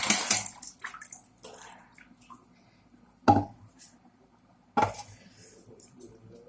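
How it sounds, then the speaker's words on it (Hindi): Boiled raw banana and rice are tipped into a kitchen strainer to drain. Water gushes in a few separate splashy pours, with quieter dripping and clinks of the pot between them, close and moderately loud. "हो चुका है, उसे हम छाननी में छानने लेंगे"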